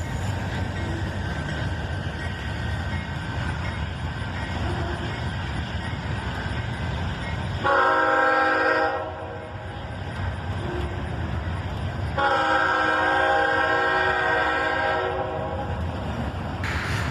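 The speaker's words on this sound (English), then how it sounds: "AC-44CW pulls this train northbound and out of town." Freight train of old modified Chessie System gondolas carrying continuous welded rail, hauled northbound out of town by an AC-44CW locomotive; a steady rolling rumble is broken by two long, loud horn blasts.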